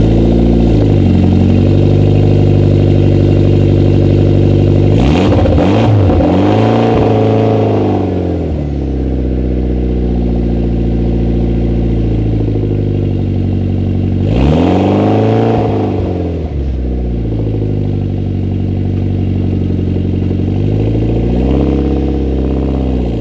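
Mitsubishi Evo X engine idles loudly and close after a remote start, with two strong revs sweeping up and back down over a steady, harmonic-rich idle rumble.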